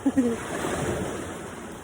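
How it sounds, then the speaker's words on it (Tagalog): Ocean surf washes onto a shore in a steady, rushing hiss that sounds fairly close, following a brief voice at the very start. "meron kang naririnig ng hampas ng alon"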